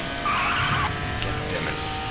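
A car skidding while driving in the Duke Nukem Forever video game, a short tire squeal over a steady engine drone, followed by a couple of faint clanks.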